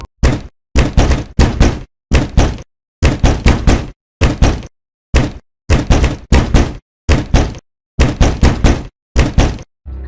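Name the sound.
knocking hard on a door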